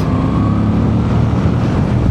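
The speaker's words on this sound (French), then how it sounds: "tu as la boîte à air qui grogne, le moteur qui gronde" Steady, loud low rumble of a Moto Guzzi V7 Sport motorcycle engine while riding, with a growling airbox and a constant broadband roar mixed with wind noise, continuous throughout.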